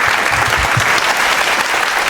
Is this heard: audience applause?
yes